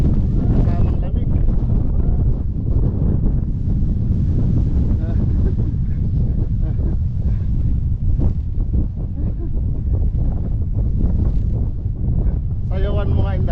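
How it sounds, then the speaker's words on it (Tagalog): Strong cold wind buffets the microphone outdoors in a loud, continuous roar with gusty surges, while voices talk briefly underneath. "Lakas ng hangin. Pinatras kami ng hangin."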